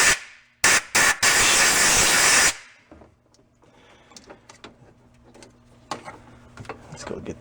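Compressed air blasts out of the starter hole of a Porsche 914 in short loud hissing bursts, two brief spurts followed by a longer sustained gust, then quiet clicks and faint background sounds.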